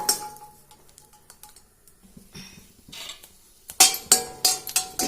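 Whole chillies are dry-roasted in a pan without oil, with scattered light clinks and scraping stirs against the metal, sparse at first and then turning into a busier run of loud rattling knocks near the end.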